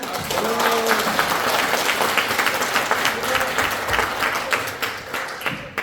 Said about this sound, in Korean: 소개해드리면 따뜻한 박수로 함께해주시길 바라겠습니다